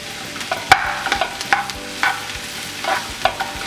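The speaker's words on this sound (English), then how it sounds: "Stir it all up" Mushrooms sautéing in an Instant Pot are stirred with a pinch of salt, giving a run of close, sharp utensil scrapes and clinks over a soft, steady sizzle.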